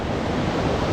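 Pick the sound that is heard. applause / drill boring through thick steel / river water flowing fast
river water flowing fast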